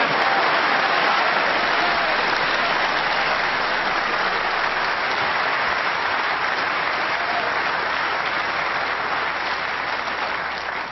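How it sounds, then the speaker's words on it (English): Sustained applause fills a snooker arena after a positional shot, a dense steady wash of clapping from a large crowd that holds for the whole stretch and only begins to thin at the very end. "that round of applause it sounded like he just won a tournament"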